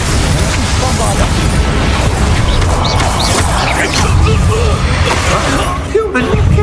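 Bombarda blasting spell in Hogwarts Legacy, with loud, rumbling blasts and crashing bursts in a dense, continuous stretch during a duel, voices mixed in.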